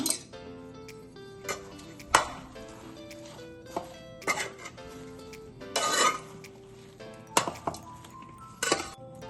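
Soya chunks being mixed with curd, onion, capsicum, salt and spices in a bowl, heard as scattered clinks and scrapes of a spoon against the dish, with several louder knocks between quieter stretches.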